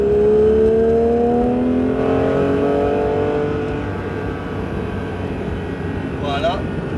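Porsche 911 GT3 accelerating around the Mireval race circuit, engine note rising steadily then easing, loud and close from inside the car, with an instructor's voice coaching over it.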